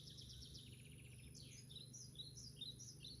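Faint, quick chirps from a sparrow repeat in bursts over a steady low hum, somewhat distant and soft.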